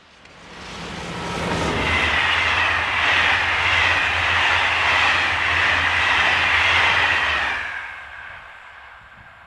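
French electric locomotive 26037 passes by on a railway in France, rising from a distant rumble to a loud, sustained roar with rolling wheel noise for several seconds before fading quickly away.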